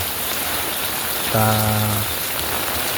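Steady rain hisses down throughout, with a brief low humming tone rising in the middle and then fading out.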